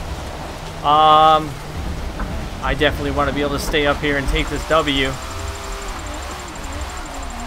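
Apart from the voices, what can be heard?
rain at Maple Valley in Forza Motorsport 7 video game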